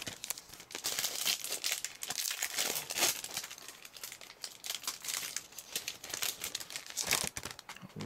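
A wrapper from a 2003/2004 Pacific Exhibit hockey trading card pack crinkles and crackles continuously, close and busy, with uneven bursts of crumpling throughout.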